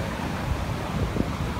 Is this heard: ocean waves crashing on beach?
yes